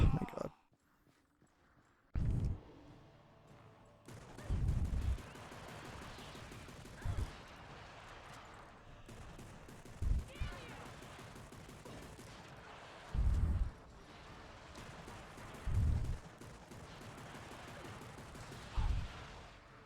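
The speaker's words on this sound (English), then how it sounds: "It is a shot." Gunshots in the Xbox game Darkwatch ring out as separate loud blasts, about eight spaced a few seconds apart, over a quieter stretch of background game sound.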